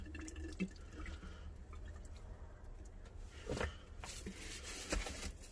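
Water poured from a can onto a Gaillardia seed tray, dripping and trickling into the compost in soft irregular splashes, fairly quiet with a few louder drips near the end.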